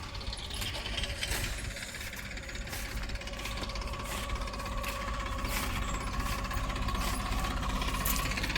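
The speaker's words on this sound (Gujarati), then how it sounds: "હજુમાં મગફળીનું મશીન પણ ચાલુ છે।" A tractor-driven peanut harvesting machine runs steadily in a farm field, a continuous mechanical rumble with rattling and clanking throughout, moderately distant and even in level.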